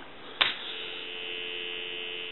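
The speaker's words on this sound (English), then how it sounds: "So we'll go ahead and give you some dial tone." A steady, continuous dial tone from a Kellogg Redbar wall rotary telephone hums on without a break, preceded by a brief click.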